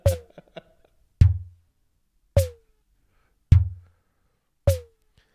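A synthesized percussion drum from a Nord Micro Modular. Four single hits fall about a second apart, each a sharp click with a booming low thud and a quick downward pitch drop. A few small ticks come before the first hit.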